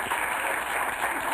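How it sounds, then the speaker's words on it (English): Round-of-applause sound effect played on a blog talk radio show, a brief, continuous wash of dense clapping that sounds compressed and broadband, like a canned effect, with no voices over it. "let me get you a round of applause because that takes a real man"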